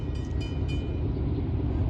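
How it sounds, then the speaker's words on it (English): A loaded CSX coal train rolls past close by, a steady low rumble and roar of heavy cars on the rails, with faint high squeals riding over the continuous drone. "All right, this is a CSX coal train too."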